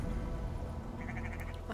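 Sheep bleating in Assassin's Creed Valhalla, a short series of bleats over a steady low game ambience, with no talk.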